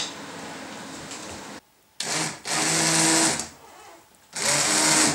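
Kitchen blender whirs through cooked potato and leek soup in loud motor bursts, running a little over a second, stopping, then restarting twice more with short quiet gaps between pulses.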